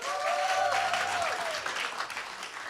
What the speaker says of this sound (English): give a massive round of applause for Lisa Marini